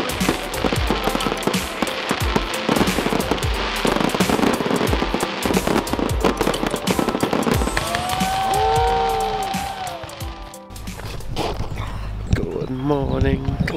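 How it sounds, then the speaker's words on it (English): Fireworks bursting over the Glastonbury festival in 2022, a dense run of crackling, popping explosions heard from a crowd on a hillside, with whistling rockets near the end and people talking and cheering underneath. "Going up to the sign to watch the fireworks."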